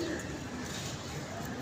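Pigeons, including a female and a golden pigeon, coo softly at a pigeon club in a brief close stretch, with a faint background murmur.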